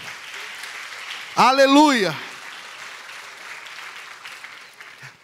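A church congregation claps in a steady, fairly soft wash of applause while a preacher's voice rings out loudly once over it.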